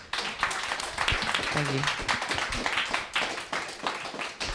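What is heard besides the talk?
audience applause for a panel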